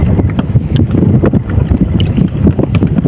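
Strong wind buffets the microphone in loud, gusty rumbles over open water, with brief splashes and knocks breaking through.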